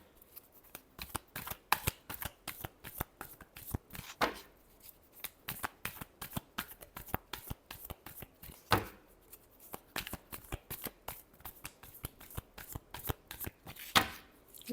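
Tarot cards are shuffled by hand in a quiet room, a rapid run of crisp riffling slaps and flicks with a few sharper taps, close and fairly soft.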